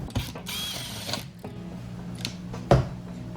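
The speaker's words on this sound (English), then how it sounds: "I'm just gonna remove the 2 screws that hold the latch on" Two small screws being backed out of the window latch on a skid loader cab, giving a run of close, dry metallic clicks and ratcheting creaks with a sharper snap near the end, and no voices.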